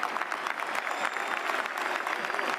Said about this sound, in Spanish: Aplaudo, aplaudo.